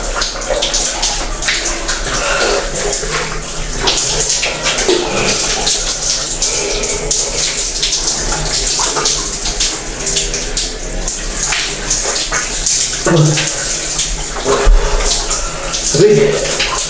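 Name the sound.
water running from a sink tap at a camp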